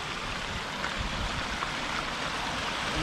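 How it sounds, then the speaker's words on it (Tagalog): Waterfall in Olden, Norway, heard from its base as a steady, close, broadband rush of falling water with no speech over it. "nandito na kami sa pinakapaanan ng falls"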